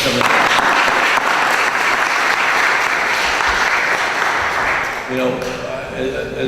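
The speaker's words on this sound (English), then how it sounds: "give a round of applause for Mayor Pilla" An audience at a 2011 mentorship graduation ceremony applauds Mayor Pilla, a loud, dense wash of clapping that runs steadily through the whole moment and thins slightly near the end, with a few voices faintly mixed in.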